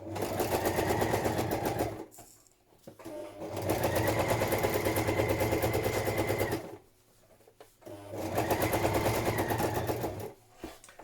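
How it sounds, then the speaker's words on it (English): A sewing machine stitches through a thick padded patchwork journal cover layered with wadding and fabric, running in three steady rapid bursts with brief pauses between them, close and loud. "Just helping it through my machine because it is quite thick."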